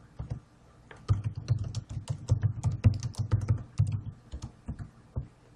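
Computer keyboard typing: a quick, irregular run of close, crisp key clicks that starts faintly, then comes in dense bursts through most of the stretch, with no talking.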